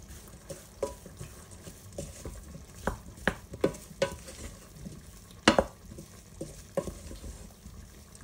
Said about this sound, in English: And then just mix that in to coat the potatoes.